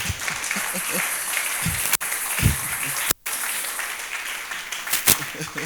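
Church congregation applauding in worship, a steady wash of clapping running the whole time, close and fairly loud, with voices mixed in and a couple of brief breaks.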